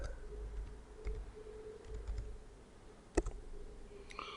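Typing on a computer keyboard: scattered soft key clicks, close but quiet, with a sharper tap near the end against a faint steady hum.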